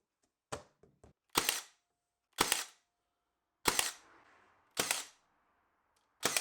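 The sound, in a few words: pinning a nightstand back panel in place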